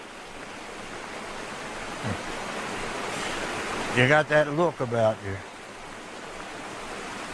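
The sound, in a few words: river water flowing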